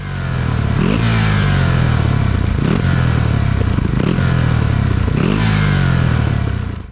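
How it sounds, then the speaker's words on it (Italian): A 2023 Ducati Scrambler 800 Icon motorcycle with a compact exhaust rumbles loud and close, its engine rising in three repeated rev sweeps that climb and fall back, with a steady deep exhaust note and no talking. "Il sound prodotto dallo scarico compatto non può che piacere."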